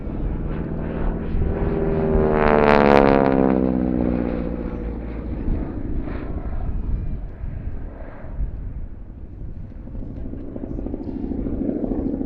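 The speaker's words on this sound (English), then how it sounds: "this has to go down as one of the greatest training aeroplanes of all time, still performing that role for historic aircraft operators today" An AT-6 Texan training aeroplane flies past at Shuttleworth, its loud propeller and radial engine drone swelling as it nears and then fading, with a voice talking over the steady roar.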